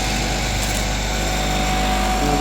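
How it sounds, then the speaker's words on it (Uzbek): An electric motor drives a rice processing machine with a steady, continuous mechanical hum and whir, close and fairly loud throughout, with no speech. "Mana şu motor aylab beryapti do'stlar, şu motor"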